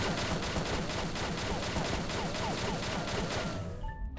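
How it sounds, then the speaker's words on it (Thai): A shotgun fires in the online shooter XSHOT in a rapid continuous burst of dense, loud blasts, then cuts off abruptly near the end. "เดี๋ยวเราจะลองยิงแบบคุมปืนดูนะครับ"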